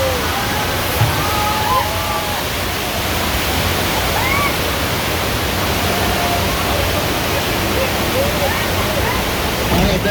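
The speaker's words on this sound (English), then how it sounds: "Bad news, it looks like the water mains are broken." Rushing floodwater from a staged broken water main on the Universal Studios tour pours in a loud, steady roar like a waterfall, with faint voices under it.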